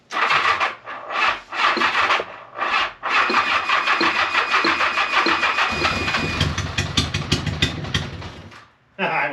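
A 1975 Honda Goldwing motorcycle, left sitting for 41 years, cranks in several short bursts, then sputters into a rough, uneven near-running churn before cutting out, with people talking around it.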